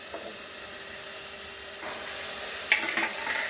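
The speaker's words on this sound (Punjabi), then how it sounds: "ਹੁਣ ਆਪਾਂ ਇਹਦੇ ਵਿੱਚ ਤੇ ਛੋਲੇ ਪਾ ਦਿਆਂਗੇ" Shelled green chickpeas going into roasted masala in a pan: a soft, steady hiss and sizzle with a few light stirring touches, swelling slightly into a brighter spit of sizzle toward the end.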